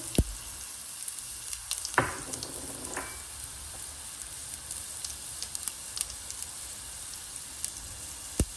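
Ginger sizzles in a hot pan with a constant bright fizz, broken by a couple of sharp utensil clacks near the start.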